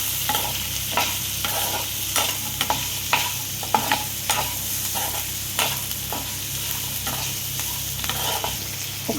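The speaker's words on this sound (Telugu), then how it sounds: "ఇదంతా బాగా మిక్స్ చేసుకోవాలి." Onion, green chilli and whole garam masala fry in a pan while being stirred, a loud continuous sizzle broken by regular scraping strokes and light knocks of the spoon against the pan.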